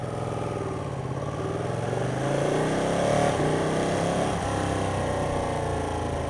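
A Ducati 959 Panigale motorcycle pulls away from a standstill with a quick shifter, its engine revving up steadily and loud, the pitch climbing through upshifts over about six seconds.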